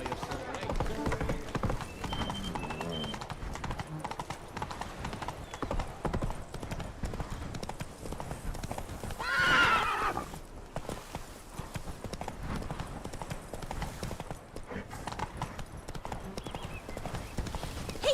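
Roach the horse gallops in Witcher 3: Wild Hunt, a quick steady clip-clop of hooves running throughout, with game voices, music and a brief whinny-like burst partway through.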